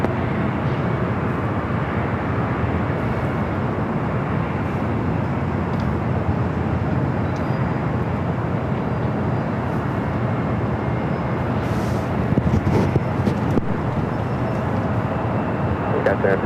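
A Cathay Pacific airliner taxis across runway 24 left at LAX, its engines a steady, broad roar. The drone holds constant for the whole stretch, with a spoken voice running over it.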